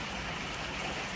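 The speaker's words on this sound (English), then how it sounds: "despite this rainy weather" Outdoor rain falls as a steady, dense hiss of drops, continuous and even throughout with no other sounds standing out.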